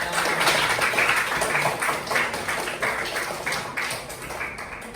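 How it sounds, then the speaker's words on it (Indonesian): Students applaud a classmate group in a classroom, a dense, fairly loud burst of clapping that holds steady and slowly tapers off over a few seconds. "Tepuk tangan dulu untuk kelompok"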